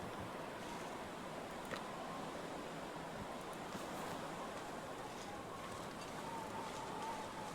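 Steady wind blows through the bleak outdoors of the survival game The Long Dark, a continuous broadband whoosh with gentle swells that stays loud and even for the whole stretch, with no voices over it.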